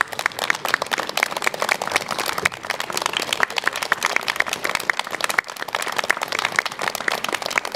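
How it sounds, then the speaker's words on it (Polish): Sustained applause from an audience at a remembrance ceremony, dense and steady throughout for the youth and scout performers after their artistic programme. "Wielkie, wielkie brawa dla nich oczywiście."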